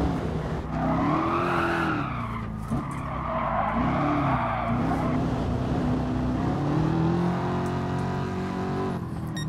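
A 787hp mid-engine Mustang GT drifts with long, wavering tire squeals that rise and fall over a steady engine roar, loud and continuous throughout.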